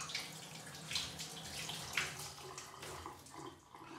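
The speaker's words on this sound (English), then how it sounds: "Washing your hands while doing all these butter works." Hands washed under a running kitchen tap after working with butter during cake baking: a steady hiss of flowing water with soft splashing surges, close and moderately quiet, with no talking.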